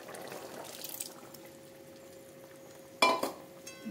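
Cooked lentils are poured into a pot of simmering potato and drumstick, a soft wet splash and slosh rising suddenly near the end over a faint, steady bubbling background.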